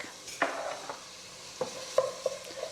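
Teaspoon of garlic sizzling in a hot pan, a soft, steady fry broken by several sharp scrapes and knocks of stirring, close and fairly quiet.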